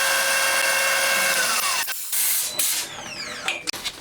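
A lathe takes a skim cut on steel round bar stock, producing a loud, steady metallic whine with a hissing edge that cuts off partway through, followed by scattered squeals and clanks.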